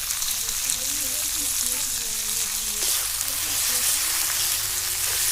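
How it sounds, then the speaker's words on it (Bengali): Wild mushrooms frying in a pan with spices, red chilli powder and a splash of water, giving a steady broadband sizzle throughout, with faint background voices beneath. "এবার ছাতুটা দিয়ে দিলাম মশলার উপরে"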